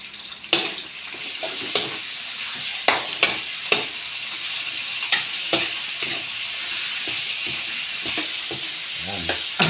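Bamboo shoots and pork rib being sautéed in a pan: a steady sizzle runs under repeated clanks and scrapes of stirring, close and fairly quiet, with no talking.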